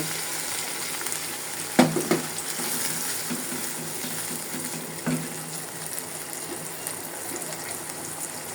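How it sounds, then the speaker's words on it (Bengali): Water poured into a pan of frying ginger and garlic, a sharp burst of sizzling followed by a steady hiss and bubbling, close and moderately loud, with a second smaller flare partway through. "এখন আমার ভাজা হয়ে গেছে এখন একটু পানি দিয়ে দিব"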